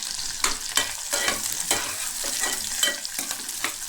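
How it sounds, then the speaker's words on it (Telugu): Onions and green chilies fry in oil in a pan for veg pulao, with a steady close sizzle and a rhythmic series of scraping stirs of a spoon against the pan, and no talk. "ఆనియన్, పచ్చిమిర్చి, ఇది ఎర్రగా వేసుకోవాలండి."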